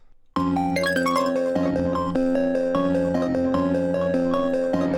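A finished hip-hop beat with 808 patterns plays after a short quiet lead-in, a bright repeating melodic loop riding over deep punchy bass hits at a steady tempo, loud and alone.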